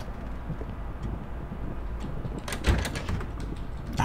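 Locked door rattling in the horror game Pineview Drive, a quiet room tone followed by a few short, sharp knocking rattles of the handle and frame near the end.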